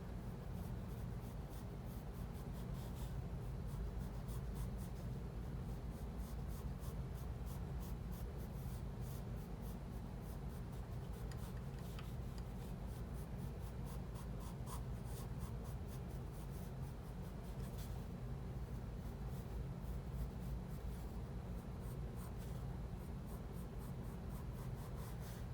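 Soft scratching of a pencil sketching a garlic drawing on paper, a faint continuous rasp with quick stroke textures, close and quiet, throughout with no talking.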